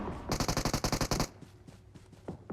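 Rapid automatic gunfire in the mobile battle royale game PUBG Mobile, a tight burst of about ten loud shots followed by quieter scattered pops and faint distant reports.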